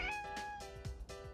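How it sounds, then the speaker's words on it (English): A cat meows three or four times in quick succession, close by and fairly soft, with no talk. "Meow!"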